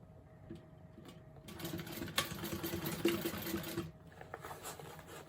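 A sewing machine stitches a bag strap about 1/8 inch from the edge, a rapid mechanical whirring burst of around two seconds rising over quiet room tone, then stopping.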